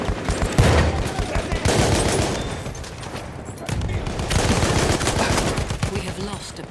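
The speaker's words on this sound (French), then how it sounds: "Une de leurs mitrailleuses." Machine gun fire in Battlefield 1 rattles in dense, sustained volleys amid battlefield noise, easing briefly in the middle before resuming, with voices faintly underneath.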